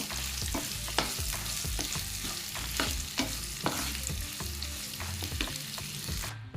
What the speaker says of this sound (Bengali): পেঁয়াজটাকে আমি হালকা ভেজে নেব।